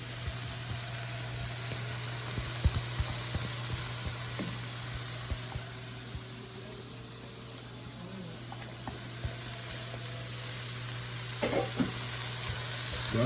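Saltfish, broken into small pieces, stirs and fries in a pan, giving a steady low sizzle with a constant hum beneath and occasional scraping knocks from the stirring.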